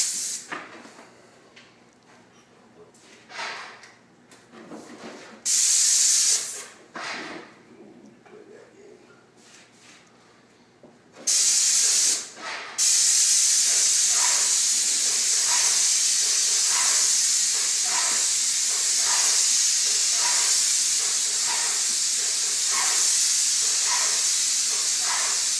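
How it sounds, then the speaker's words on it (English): A paint sprayer hisses in a few short bursts, then runs as a loud, continuous spraying hiss with rhythmic pulses as it sweeps back and forth over varnished interior doors standing upright. "I just kind of wanted to show you how we spray these varnished doors"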